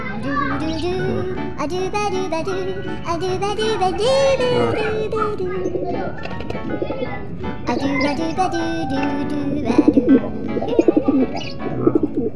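A paired couple of pigeons coo repeatedly at close range while people, including a child, talk over and between the calls, with a few sharp knocks near the end.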